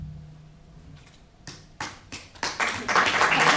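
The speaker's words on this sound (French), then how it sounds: "On va l'applaudir." An audience begins applauding at a book review presentation, with a few scattered claps that swell quickly into fuller, steady clapping near the listener.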